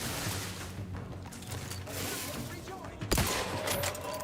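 A sniper rifle shot in The Outer Worlds 2: one loud, sharp crack midway through, over a continuous bed of mechanical clicking and ambient game noise.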